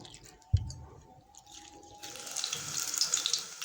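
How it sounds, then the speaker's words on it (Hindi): Water pouring into pakora batter for rainy-day snacks, a steady splashing trickle that starts after a brief knock and grows louder and brighter, close by with no talk. "अब इसमें पानी डाल के इसको अच्छे से मिक्स कर लें"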